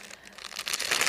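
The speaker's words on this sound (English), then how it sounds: "Excuse the loud noise of the packaging." Plastic packaging of a new garden harvest apron crinkles and crunches close by in a short burst, growing louder toward the end with no talking.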